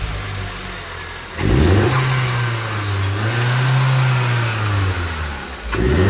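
A Vauxhall Corsa E VXR engine fitted with a new, slightly larger intake pipe starts up, then revs loud and close, the note swelling and falling across several seconds, with no talking.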